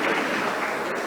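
Brief, steady burst of audience applause at a journalism panel session, a dense even patter with no voices over it.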